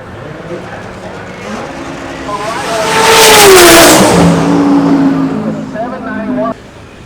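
At a Florida car show, a car engine revs up, swelling to a loud peak and then easing off as it passes close by, with voices talking over it.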